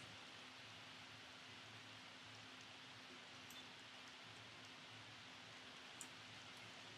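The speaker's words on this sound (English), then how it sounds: "It rains a lot in my game." Steady rainfall in The Sims 4, a soft, even hiss of drops that runs unbroken and fairly quiet throughout, with a low hum beneath and no voices.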